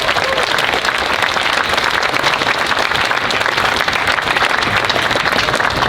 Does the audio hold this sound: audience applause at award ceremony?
yes